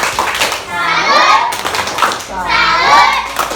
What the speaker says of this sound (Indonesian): Sekarang kita beri tepuk salut untuk kelompok 1.